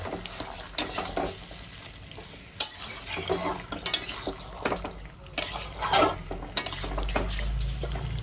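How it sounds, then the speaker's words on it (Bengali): Marinated chicken is stirred in a hot pan over a high gas flame for butter chicken masala, with a sizzle under repeated loud scrapes and clanks of a metal spatula, arriving in irregular bursts. "এবার আমি চিকেনটা মিক্স করে নেবো"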